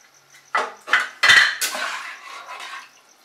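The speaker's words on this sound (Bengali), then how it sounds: "জল দেওয়ার পরে এবার আমরা চিকেন পিসগুলো, মাশরুমটা আর প্রনটা দিয়ে দিলাম।" Chicken pieces, mushroom and prawns going into a cooking pot of water for restaurant-style gravy chowmein, a few clattering metal clinks and scrapes of utensil against pot, short and fairly loud, with no talk.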